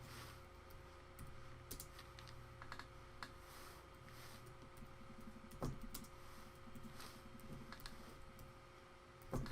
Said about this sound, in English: Excuse me while I type.